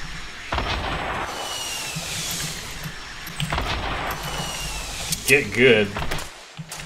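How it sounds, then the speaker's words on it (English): Bursts of gunfire in the Fortnite video game, a few rapid volleys spread through the stretch under loud ongoing game noise, with someone talking over it. "Who was just shooting at me and not shooting at him?"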